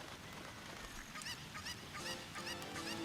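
Cuccos, the chickens of Zelda: Ocarina of Time, give several short honking, goose-like clucks in an irregular run over quiet game ambience.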